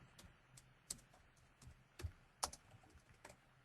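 Typing on a computer keyboard in a quiet office setting, with a faint, irregular patter of soft key clicks and one or two slightly sharper taps.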